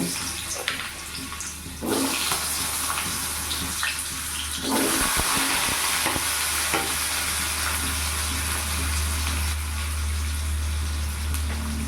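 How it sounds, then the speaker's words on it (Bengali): Cut potatoes go into hot oil in a pan. A quiet hiss jumps into a loud, steady frying sizzle that swells again after a few seconds and stays dense to the end, with no voices. "তেলটা গরম হয়ে গেছে এবার কেটে রাখা আলুটা আমি ভেজে নেব"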